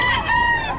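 A rooster crows nearby at a market, a loud strained call with a rising then sustained tone, cut short after under a second.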